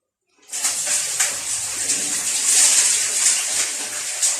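Tigernuts being washed in water, with a steady rushing, splashing flow that starts abruptly and continues loud and close throughout.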